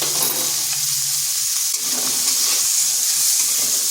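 Thick-cut bitter gourd slices fry over medium heat for a vegetarian dal shukto, giving a loud, continuous close-up sizzle with faint stirring underneath and no speech.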